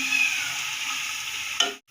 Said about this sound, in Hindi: 1 कप मैंने ऑयल लिया है। इसके अंदर प्याज डाल के इसे हल्का सा कलर देना है